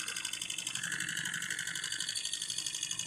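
A tiny Rider Ericsson Stirling hot air engine runs continuously, producing a fast, even mechanical whir with rapid rhythmic ticking. It is close and steady, with no voices.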